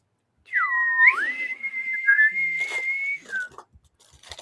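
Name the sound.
person whistling, imitating a bosun's whistle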